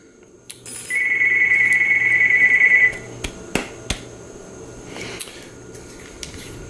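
Phone ringing indoors in a lightsaber workshop, a steady electronic ring lasting about two seconds followed by a few sharp clicks and quiet room noise.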